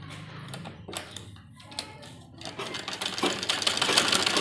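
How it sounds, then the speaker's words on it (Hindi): A sewing machine stitches the stretched elastic waistband of a circular umbrella palazzo. Rapid mechanical clatter starts in short bursts, then settles into a steady, loud run. "अब एक सिलाई हम बीच में इसमें लगाएंगे।"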